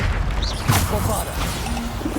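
Bombarda spell in the game Hogwarts Legacy detonating with a sharp crashing impact amid busy combat effects, followed by a brief whooshing tail and lingering rumble, with game voices and talk underneath.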